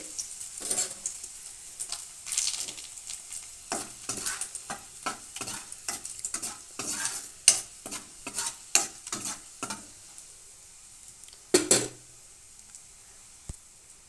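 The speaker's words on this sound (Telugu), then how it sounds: "ఎల్లిపాయలు వేస్తున్నాను రెండు ఎండుమిర్చి దించేస్తున్నానండి" Garlic and dry red chillies crackle in a hot tempering, with repeated spatula strokes scraping the pan in an uneven rhythm over a soft sizzle, close and without voices.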